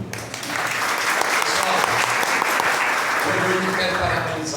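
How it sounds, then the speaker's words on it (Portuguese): An audience at a book signing night in Carnaíba applauds loudly and steadily, a dense sustained round of clapping with some voices mixed in beneath it. "vamos aplaudir."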